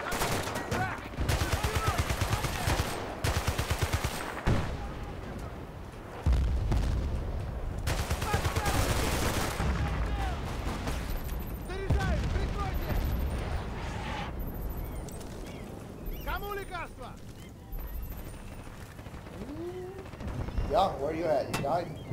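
Sustained gunfire and explosions in the video game Battlefield: Bad Company 2, dense rattling volleys filling most of the stretch and thinning toward the end, with players talking over the battle.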